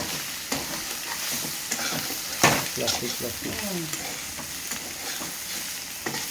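Onion and egg scramble frying in a pan while being stirred, giving a steady sizzle broken by scraping strokes and a few sharper clinks of the utensil against the pan, with no talking.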